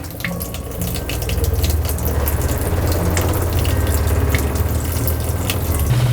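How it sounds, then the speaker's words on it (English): A kitchen sink faucet runs cold in the living quarters of a Lakota horse trailer, a steady, close rush of water with pump hum underneath, continuous throughout. "come to the kitchen sink. You want to turn on the cold by itself until you start seeing pink."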